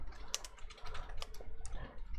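Typing on a computer keyboard, a quick run of light plastic key clicks in an uneven rhythm, close and clear with no voices.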